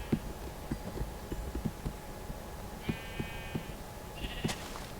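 Sheep in the Minecraft video game bleat in a few short, clear calls, heard alone over a steady rhythm of soft footstep-like thumps.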